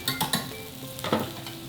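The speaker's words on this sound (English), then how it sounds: "So that's cooking. Our meatballs are cooking." Meatballs fry in a pan with a continuous sizzle, broken by a few utensil scrapes and clinks as they are stirred.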